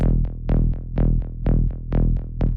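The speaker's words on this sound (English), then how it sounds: "After that, we have the bass, which sounds like this." A simple bass line in E for high tech minimal techno, about ten punchy plucked notes repeating in a steady driving rhythm, loud and alone with no voices.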